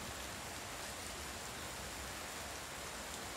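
Heavy rain pours steadily in a cartoon scene after midnight beside a closed roadside stall, a dense, unbroken hiss that fills the whole stretch without letup.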